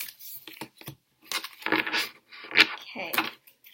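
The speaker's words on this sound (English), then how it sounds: "I'm going to take all of these cards, put them back into the deck, and I'm going to start by shuffling" A deck of tarot cards is shuffled in short bursts of crisp riffling and slapping, close and fairly loud, separated by brief pauses.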